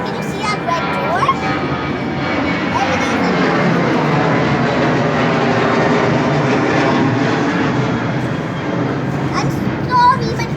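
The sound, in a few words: aeroplane flying overhead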